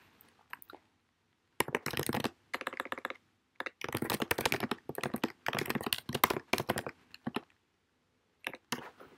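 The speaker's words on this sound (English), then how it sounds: "so you would type whatever your instructions were" Bursts of quick, crisp keystrokes on a computer keyboard, close and clear, come in several runs separated by short silences, with a final brief flurry at the end.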